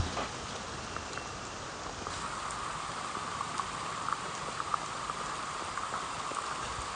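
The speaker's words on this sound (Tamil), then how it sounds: "மழை குறையிற மாதிரியே தெரியல" Heavy rain during a severe storm that flooded homes in Karainagar, Jaffna, Sri Lanka, a dense, constant hiss of falling water with scattered close drips and splashes, no voices.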